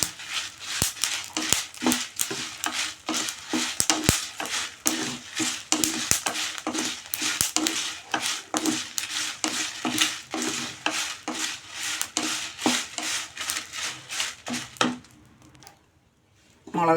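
Dry red chillies roasting with salt in a pan over low heat, being prepared for idli and dosa podi. A dense, rapid, crackly rattling and scraping is heard close up, stopping shortly before the end.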